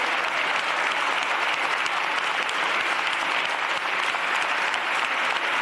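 Sustained, dense applause fills the Spanish Congress of Deputies, a long unbroken wash of clapping from a large chamber audience that holds steady at high volume throughout.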